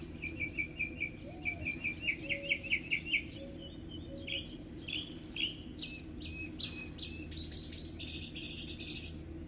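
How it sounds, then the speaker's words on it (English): Morning birdsong outdoors, with several small birds chirping in quick repeated trills and tweets, moderately near and clear over a low steady background hum, no voices. "I'm just listening to the birds"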